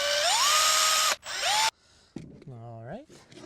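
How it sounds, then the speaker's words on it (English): A cordless screw gun drives screws into wood while a compost bin is built from scratch: two close, loud bursts of high motor whine that ramp up and stop abruptly, followed by a short bit of speech. "I've got my screw gun all ready to rock, a pocket full of screws. I'm gonna start some of these screws real quick."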